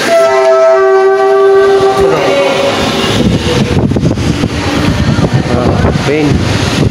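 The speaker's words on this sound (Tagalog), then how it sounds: "Nabayaan ka ko train." A train passes nearby, opening with a loud sustained horn and then giving way to a heavy rolling rumble of cars and wheels, with voices talking over it.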